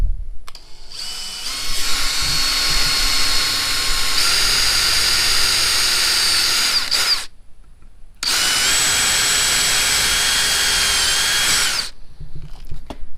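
A power drill runs in two long, loud bursts separated by a brief pause, drilling marked rivet holes in a plate for a Silverado tail light fix, its whine steady and close throughout.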